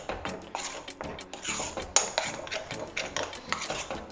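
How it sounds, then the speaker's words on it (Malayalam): A metal spoon stirring and scraping a thick tomato, onion and cashew paste in a pan, with rapid irregular clinks and scrapes close up, alone without talk. "ഈ നന്നായിട്ട് ആഡ് ചെയ്തതിന് ശേഷം നന്നായിട്ട് ഇളക്കി കൊടുക്കുക"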